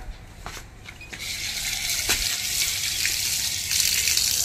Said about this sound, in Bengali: তো ফার্স্ট আগে আমটাকে ধুয়ে নিই